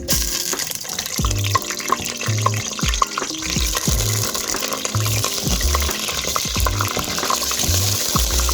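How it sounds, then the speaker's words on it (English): Noodles, vegetables and noodle seasoning are stirred in a sizzling stir fry pan during Sunday cooking in Samoa. Steady frying crackle runs throughout, with a regular rhythm of utensil scrapes and stirring knocks, close and fairly loud. "Gonna give that a stir."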